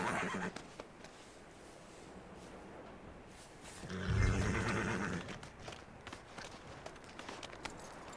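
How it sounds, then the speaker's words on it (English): Horse in the Red Dead Redemption 2 video game giving a short, low snorting whinny midway, heard over a faint ambient game background with light footstep-like sounds. "Ah, temos um cavalo."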